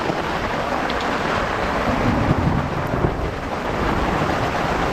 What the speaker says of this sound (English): Well, here comes the hail.